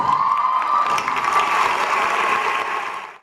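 Applause and cheering from the audience at a Miss Africa Washington State pageant as a contestant is introduced, steady clapping with whoops and a shrill shout, fading at the end.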